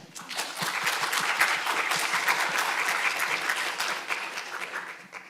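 A lecture audience at a biostatistics department event breaks into sustained applause, dense and steady for about five seconds before tapering slightly at the end.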